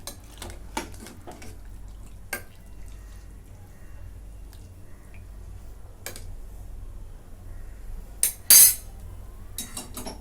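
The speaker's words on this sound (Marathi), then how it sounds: "मिक्स करून घेते सगळं" Chicken curry being stirred and mixed in a pot with hot water, giving sparse metallic clinks and scrapes of a utensil against the vessel over a low steady hum, with one brief louder clatter near the end.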